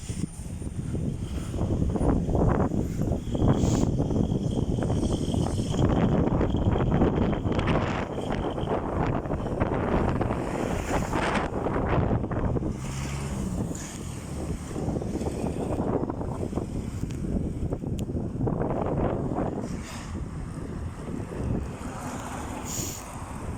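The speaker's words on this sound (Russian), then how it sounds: "Ну, ветрено сегодня." Blustery wind in Yakutsk, Siberia roars steadily against the microphone, with gusts swelling and easing throughout; a faint watery wash sits underneath.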